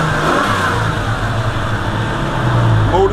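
A Jeep Cherokee engine idles smoothly and steadily after a throttle body adjustment, a continuous low rumble held close and fairly loud for the whole stretch, with no surging or stumbling.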